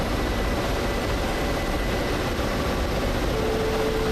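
A Ka-50 coaxial attack helicopter in DCS World flying over the Caucasus, its steady broadband rotor and engine drone holding loud and constant throughout without a break.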